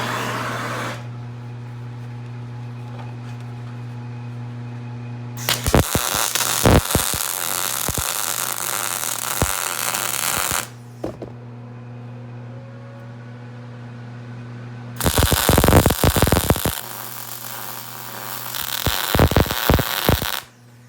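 Welding on the steel of a homemade log splitter: two long bursts of harsh, crackling buzz, each lasting several seconds, rise over a steady low electrical hum, with no talking.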